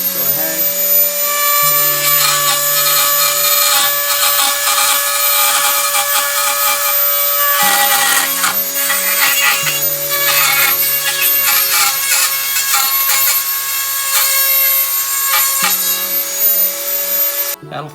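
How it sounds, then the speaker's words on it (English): A Dremel rotary tool grinds through a plastic piece with a continuous high-pitched whine. The cut runs close and loud in long passes, its pitch shifting as the load changes. "So we're gonna use the Dremel again, just because I'm lazy"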